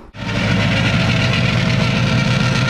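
A supercharged Tide car engine idles smoothly and steadily after its carburetors are tuned, a close, even, continuous rumble that starts abruptly and holds a constant level with no talk.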